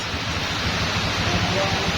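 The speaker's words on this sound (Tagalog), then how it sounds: "Lakas na naman ang ulan, bumipira na naman" Dense, steady roar of heavy rain pouring down, loud and continuous with a low rumbling undertone throughout.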